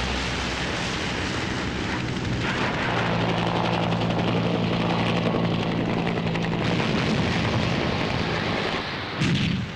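Military helicopter rotors thump loudly and steadily over a rumbling live-fire exercise with tanks, self-propelled guns, anti-tank missiles and fighter jets, with heavy booms and distant firing mixed in throughout.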